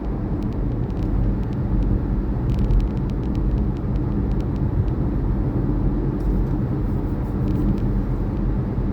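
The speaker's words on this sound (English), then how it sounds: "Man, it's fucking traffic." City road traffic heard from inside a vehicle: a steady, loud engine and road rumble fills the whole stretch, with faint clicks and rattles on top and no talking.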